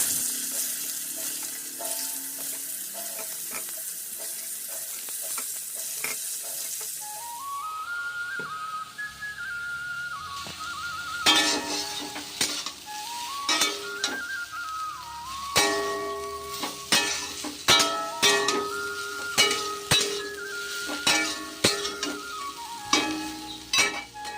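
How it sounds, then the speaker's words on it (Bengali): Pointed gourds (potol) frying in a pan: a constant background sizzle with quick clattering spatula taps, while a wavering whistle-like tone rises and falls over the frying in the second half. "চলো পটলগুলো ভেজে নিই"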